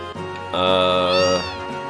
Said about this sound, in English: It's just a place where cats hang out.